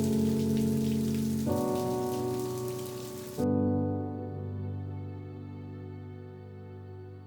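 Rain falls outside a school as a steady hiss under a strong, droning low hum. The hiss cuts off partway through, leaving the hum, and no one speaks.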